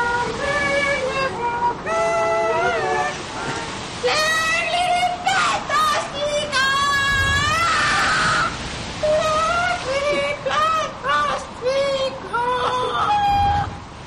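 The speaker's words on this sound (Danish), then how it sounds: "resten af den lokale pigespejdergruppe, der stod ude i gården og skreg om kap" A local girl scout troop shrieking and screaming together outdoors in a farmyard, loud overlapping high-pitched cries and wails in rapid bursts.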